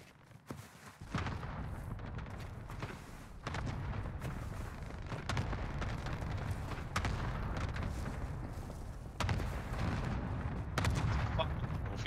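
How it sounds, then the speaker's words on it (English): A cluster airstrike in Warzone Caldera unleashes a continuous barrage of heavy booms and rumbling blasts. Sharp cracks punctuate it every second or two, loud and sustained for about twelve seconds. "Fire the airstrike here. Got your request. Cluster strike is active."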